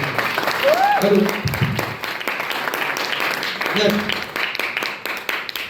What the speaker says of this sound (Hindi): तो जोरदार तालियां होनी चाहिए नसीब सर।